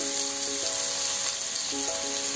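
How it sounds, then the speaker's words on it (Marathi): Vali bean greens sauté in hot oil in a pan, making a continuous, even sizzle close by, with a faint tonal hum behind it and no voices. "फक्त आपण तेलावर असं परतून घ्यायचं"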